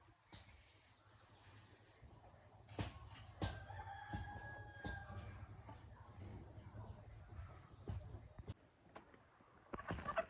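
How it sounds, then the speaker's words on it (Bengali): A rooster and a hen scuffle in a village home, giving agitated crowing and clucking calls with a few sharp bursts over steady background noise, with no talk. "মোরগ আর মুরগির লড়াই।"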